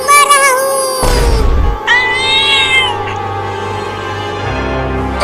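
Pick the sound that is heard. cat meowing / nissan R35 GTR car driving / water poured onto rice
cat meowing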